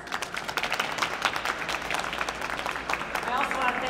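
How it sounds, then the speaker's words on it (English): A round of applause from guests at a formal gala in a grand hall, a moderately distant spread of many hands clapping steadily with voices faintly underneath. "Let's give you a round of applause."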